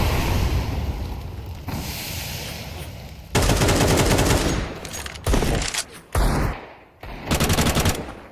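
AK rifle fire in the Counter-Strike esports match The HUNS vs Gods Reign, rapid automatic bursts in several separate strings, loud and close, broken by short pauses.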